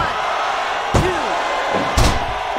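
Two heavy slams ring out about a second apart as a wrestler crashes down onto the ring canvas at an AEW Dynamite event. Both hit sharply over constant loud arena crowd noise.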